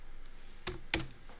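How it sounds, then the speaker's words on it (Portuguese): Two sharp keystrokes on a computer keyboard, close together, then a fainter third tap, crisp and close against a quiet hum. "apertar Enter no teclado"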